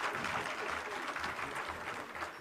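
An audience at a Hindi poetry gathering honoring Mulayam Singh Yadav's 85th birth anniversary claps in a dense, sustained burst of applause that carries on evenly for a couple of seconds.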